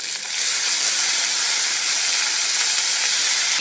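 Beans and carrots tossed into hot oil give a loud, continuous sizzling hiss that jumps up after a brief start and holds steady, close up, with no voices.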